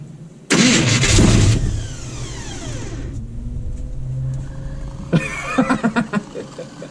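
A 1980 Chevy K30 truck engine cranks, catches and roars to life in a blizzard, a loud burst of starter and engine that settles into a steady idle, followed by a run of sharp clanks or knocks.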